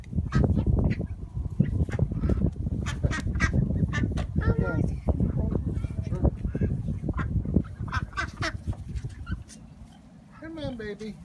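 Ducks and coots crowding at a lake edge while being fed, with busy quacking and honking calls close by, heard under continuous talking from people nearby.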